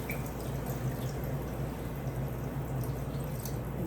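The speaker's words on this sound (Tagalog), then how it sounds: "lagyan natin ng konting tubig lang po" A little water pours into a pan of chicken with pineapple and cream. A steady, soft liquid rush and trickle holds for several seconds at close range, with no speech over it.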